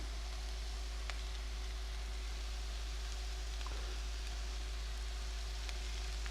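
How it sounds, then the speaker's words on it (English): Creamed spinach with melting cheese cooks in a pan, giving a steady, soft sizzle with faint crackles throughout and no talking. "I am going to cook that until the cheese is melted."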